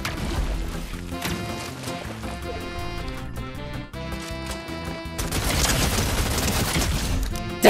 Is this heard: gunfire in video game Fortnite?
yes